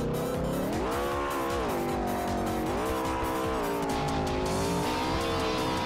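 Car driving in the Roblox game Car Dealership Tycoon, an engine whining loud and steady up close with its pitch swooping up and down as it accelerates and eases off, tires hissing underneath throughout, no one speaking.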